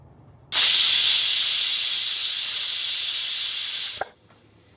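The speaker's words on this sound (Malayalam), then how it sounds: "അഞ്ച് വിസിൽ വന്ന് നമ്മൾ ഓഫ് ചെയ്തു കേട്ടോ" Pressure cooker releasing steam in a home kitchen while cooking Onam mathanga erissery, a loud steady hiss that bursts in abruptly, holds for about three and a half seconds, then cuts off sharply with a small click.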